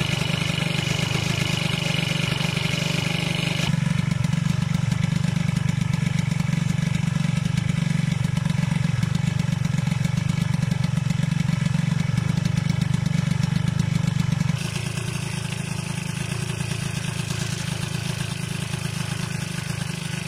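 An MBK Booster scooter fitted with a 70 DR kit, 21 flat-slide carburettor and Motoforce exhaust idles on its first start, a buzzy two-stroke drone held steady and close for about twenty seconds, with a brief rise in the middle.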